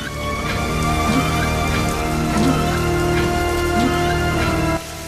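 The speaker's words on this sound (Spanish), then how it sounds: "Afuera, la lluvia caía con una intensidad casi opresiva" Heavy rain pours down outside in a dense, steady hiss of drops drumming on surfaces, loud and close throughout with no voices.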